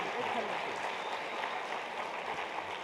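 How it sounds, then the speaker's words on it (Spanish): An audience gives a guest a welcoming round of applause, a steady, even wash of clapping at moderate volume throughout. "denle un fuerte aplauso a él"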